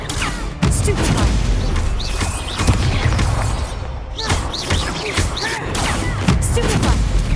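Spell effects in the Hogwarts Legacy video game, with the fiery Confringo blast among them, form a dense, loud stream of booms and crackling impacts with whooshing tails over busy game background sound.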